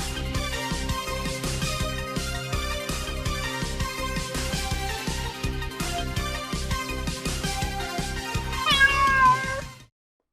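A song built from cat meows plays as a sound effect, with repeated pitched meows set over a steady beat for about ten seconds before it cuts off abruptly.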